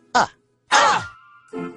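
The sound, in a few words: voice imitating the letter U sound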